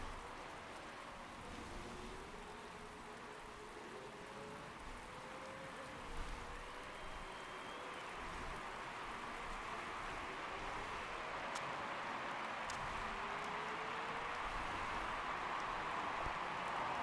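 Steady rain hisses across a racetrack in the Motorsport Manager video game, a constant wash of droplets that stays even and fairly soft for the whole stretch, with no voices.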